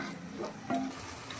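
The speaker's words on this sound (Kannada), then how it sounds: "ಸ್ವಲ್ಪ ನಾನು ನೀರನ್ನು ಸೇರಿಸ್ಕೊಳ್ತಿದ್ದೇನೆ" Water poured into a pan of cooking chicken liver sets off a brief burst of sizzling and bubbling, with a short stirring scrape mid-way through.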